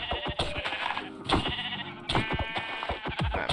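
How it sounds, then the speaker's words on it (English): Sheep in the modded Minecraft RLCraft game bleat in a quick overlapping series of loud, close calls with short gaps between them, and no voices are heard. "Let me kill the rest of these sheep."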